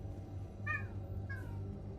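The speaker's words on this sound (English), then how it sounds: "What are you meowing at, dude?" A cat meows twice in Mass Effect 3, two short harmonic calls under a steady low game-engine hum.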